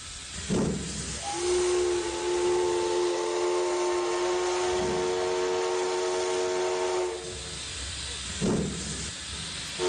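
Steam train whistle at a railway station as a stage sound effect, a long loud steady whistle tone over hissing steam, with bursts of steam at the start and near the end.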